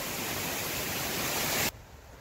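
Steady, loud roar of water from a 45-foot roadside waterfall at Falling Springs in Pennsylvania, close and continuous, cutting off abruptly near the end to a much quieter background.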